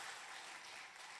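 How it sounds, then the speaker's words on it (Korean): A church congregation applauding: a short, dense wash of clapping from many hands, steady and fairly soft throughout, with no talk. "우리 한나여전도회 위해서 우리 박수 한번 하겠습니다."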